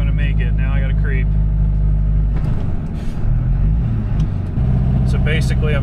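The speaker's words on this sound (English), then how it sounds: "So we're climbing this stupid hill in second gear." An old Duramax LB7 diesel pickup hauling a dozer at 30,400 lb gross weight labors up a long hill in low gear. Its deep, steady engine drone fills the scene, while someone talks over it.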